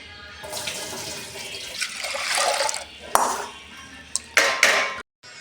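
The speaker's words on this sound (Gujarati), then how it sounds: "હવે આપણે પાણીથી ધોઈ સાફ કરી નાખવાની, 2 પાણીથી" Water splashes and swirls in a bowl as lentils are rinsed by hand, with a few clinks and pours, fairly close.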